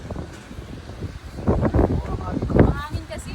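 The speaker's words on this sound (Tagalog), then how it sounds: "Mahangin kasi." Wind gusts during a snow storm rumble against the microphone in low bursts while people talk nearby.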